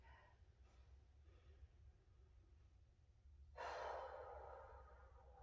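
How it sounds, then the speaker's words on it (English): Slow, deep stomach breaths during floor stretching, soft and close, with a fuller exhale near the end and no talking. "Breathing deep, deep, deep in your stomach."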